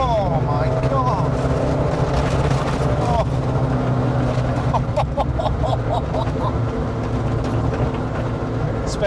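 A Talbot Sunbeam Lotus engine drones steadily and loudly from close range while the car drives, a continuous low rumble that runs through the whole stretch with faint voice-like sounds over it.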